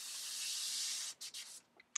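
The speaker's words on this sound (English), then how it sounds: "let's go ahead and clear airbrush out here" An airbrush clears paint in a long steady hiss of about a second, then a few short sharp bursts, close and alone with no talking.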